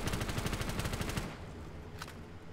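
A weapon firing in a Black Ops 3 custom zombies map: a loud, rapid burst of repeated shots for over a second, then a short pause and one lone shot.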